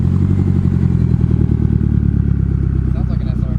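A Nissan Sileighty with an SR engine and turbo, running a 3-inch downpipe and test pipe, idles loud and close with a steady, lumpy rumble; a voice speaks briefly near the end.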